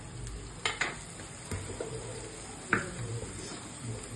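Blended tomato puree tipped into a hot pan for homemade palak paneer, sizzling faintly with a few sharp clinks and scrapes of stirring spread through the clip, with no speech.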